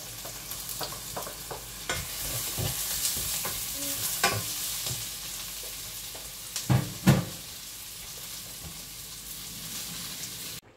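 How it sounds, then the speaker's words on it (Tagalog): Onion and garlic sautéing in a pan for pork lechon paksiw, a soft sizzle under repeated scraping and stirring strokes, with a couple of louder clanks near the middle. "Pag naaamoy nyo na yung sibuyas at yung bawang, okay na yung gisa natin."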